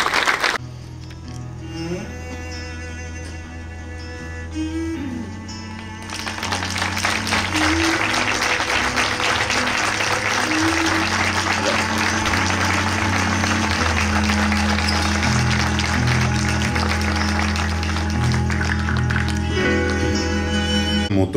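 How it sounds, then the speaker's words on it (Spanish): Applause from an audience at a taxi mutual's fiftieth anniversary ceremony, sustained clapping that swells after a quieter opening and continues over background music. "fiscalizador suplente Elio Manacero, para quien merecido aplauso en el recuerdo y por supuesto por ser pioneros"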